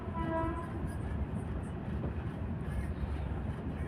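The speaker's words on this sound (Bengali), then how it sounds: "ট্রেনটা যাচ্ছে গুবলাই।" A train rumbles past close by, a steady loud roar of wheels and carriages with a brief horn-like tone near the start and no talk over it.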